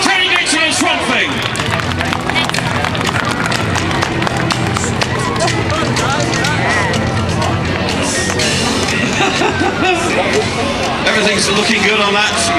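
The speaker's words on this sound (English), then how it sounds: "Give him a massive round of applause." A large outdoor crowd at the Newark Truckfest monster truck show claps and cheers for the Swamp Thing driver, dense, loud applause mixed with crowd babble and an announcer talking over it throughout.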